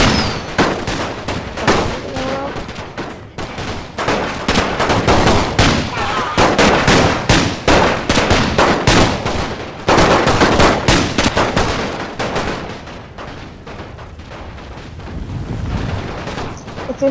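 Dense musket volleys and artillery fire from a Napoleon: Total War battle crackle and boom continuously, loud and layered like rapid machine-gun bursts, with no pause throughout.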